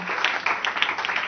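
Audience applause at a church Bible conference, a short patter of clapping without a break.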